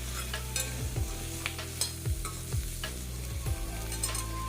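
Boiled pork pieces fry in a pan with turmeric and salt, giving a steady close sizzle broken by repeated scraping stirs at a regular pace, with no voices.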